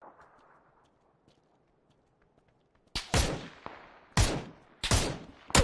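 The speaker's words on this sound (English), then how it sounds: "Shots behind us, Swamp." Gunshots in a video game: after about three seconds of near silence, a handful of loud, sharp shots crack out in uneven bursts, close and alone.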